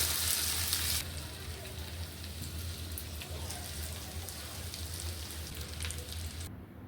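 Noodle pakoras fry in oil over medium heat with a steady, even sizzle and crackle like light rain. The sound is close and constant, with a louder hiss at the start and occasional faint stirring sounds.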